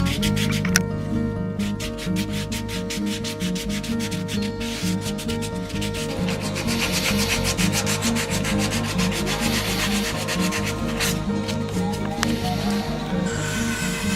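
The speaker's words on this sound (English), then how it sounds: "when I'm done with the scrapes, I switch to sandpaper to make it as smooth as possible" Sandpaper rubbing back and forth over a hand-carved wooden spoon bowl, a continuous close scratchy rasp in quick rhythmic strokes with no talking.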